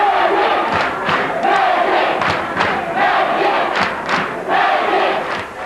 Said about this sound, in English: the students of Jeremiah Burke High School were cheering as if they were watching a Celtics-Lakers game